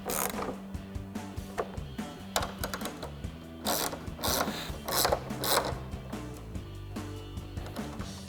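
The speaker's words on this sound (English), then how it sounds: "you can take a 10mm ratcheting wrench to snug them down" A 10mm ratcheting wrench snugs down bolts on a rear spoiler of a 2024-2026 Mustang GT, giving repeated bursts of quick ratchet clicks between pauses and small metallic clinks, close by with no talk.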